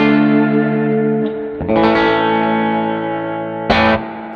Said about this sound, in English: Deville comes with a spring reverb that's been modified, which is a lot smoother sounding